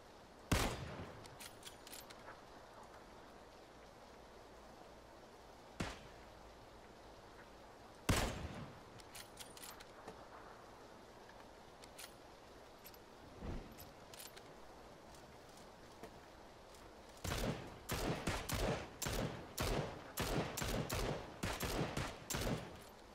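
Gunfire crackles in an online squad shooter game, with scattered single shots early on and a dense rapid burst of automatic fire near the end, sharp against a quiet background without talk.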